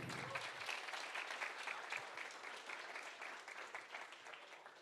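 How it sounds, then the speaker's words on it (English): Steady applause from an audience at a free software tech talk evening, a dense patter of many hands clapping at moderate level and holding evenly for about five seconds. "Big applause."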